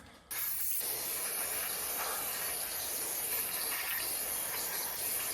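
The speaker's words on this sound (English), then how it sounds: "Little brake clean, little brush, little nylon brush." Brake cleaner sprays onto a Harley-Davidson cylinder part during a top end rebuild, one steady, close hiss lasting about five seconds before cutting off abruptly.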